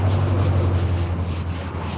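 A cemetery headstone is scrubbed clean with a steady, close, rough rubbing sound of a brush on stone. It runs continuously with no speech.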